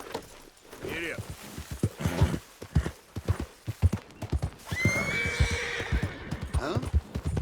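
A horse in the Red Dead Redemption 2 video game ridden at pace, with quick rhythmic hoofbeats and a loud whinny midway, with a voice speaking near the start.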